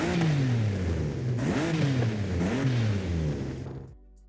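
Car engine in the video game Forza Horizon 5 with turbo fitted, revving loud and close. A steady high rev climbs twice into sharp surges, then the engine cuts off abruptly into quiet.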